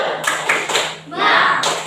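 A classroom of pupils does a rhythmic clapping chant led by their teacher, with sharp, close bursts of hand claps in short groups and brief gaps between them, mixed with spoken chanting voices.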